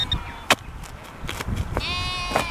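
Sheep bleat outdoors in a few short, loud cries spaced across the moment, with a harmonic-rich call toward the end over background noise.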